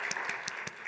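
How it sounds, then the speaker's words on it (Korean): Church congregation giving a round of applause during a Sunday service, several distinct claps in a regular rhythm over a soft, continuous background, fairly quiet and distant. "감사의 박수 한번 드리겠습니다"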